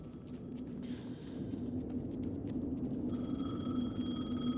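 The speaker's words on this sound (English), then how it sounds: "The phone again." A telephone rings in the video game Alan Wake 2, a steady electronic trill that comes in partway through over a low, droning ambient rumble, moderately loud with no talking.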